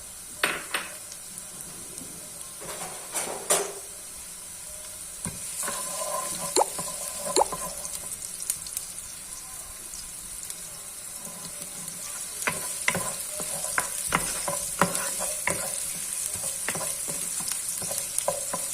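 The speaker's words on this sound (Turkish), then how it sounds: "kızmış olan yağımıza soğanlarımızı ilave edelim" Oil sizzles and crackles steadily as chopped onions fry, with occasional sharp pops and scraping stirs over the continuous hiss.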